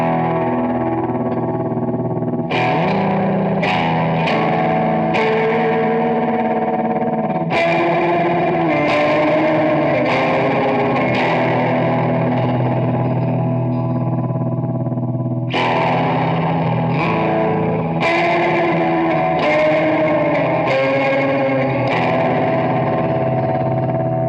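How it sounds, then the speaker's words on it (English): Distorted electric guitar through an Adventure Audio Demogorgon V3 fuzz pedal into reverb, thick fuzz tone washed in reverb, strummed chords and phrases ringing out and decaying, no voices. "what you've been hearing is fuzz into reverb"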